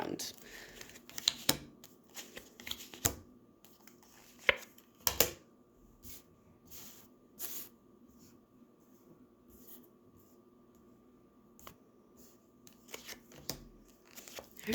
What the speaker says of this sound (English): I'm gonna have to move these cards all around.